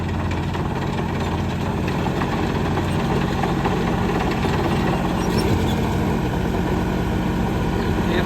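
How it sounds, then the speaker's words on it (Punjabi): A heavy tractor engine idles steadily with a low, throbbing knock throughout, loud and close, with no talking. "ਟਰੈਕਟਰ"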